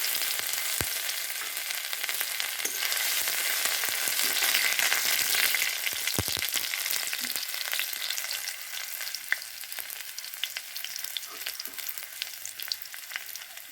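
Panch phoron and ginger frying in hot oil for a moong dal with vegetables, a steady close sizzle with crackling spatters and occasional stirring clinks, no voices.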